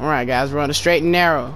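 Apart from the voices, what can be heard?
No everyday noises stand out.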